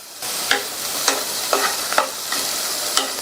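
Finely chopped beans and carrot sauté in a pan for vegetable soup, giving a constant sizzle punctuated by evenly spaced stirring scrapes about every half second, with no voices.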